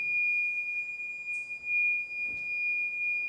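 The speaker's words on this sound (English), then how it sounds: "Sorry, it's one alarm." A steady electronic alarm tone beeps continuously and at an even level, with faint room noise and a couple of brief clicks in the background; no one speaks.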